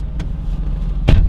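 The door of a Mercedes-AMG GT S Edition 1 shuts with a single solid thump near the end, preceded by a faint click and a low cabin rumble.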